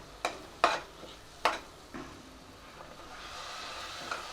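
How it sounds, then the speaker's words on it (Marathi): Besan and a potato-pea curry are stirred in a pan, giving several sharp scraping strokes of a spoon early on, then a soft, low sizzle underneath. The sound is close and fairly quiet, with no talking. "हे भाजताना समजा पाणी आटलं तर परत एक दोन चमचे पाणी घाला आणि व्यवस्थित परतून घ्या"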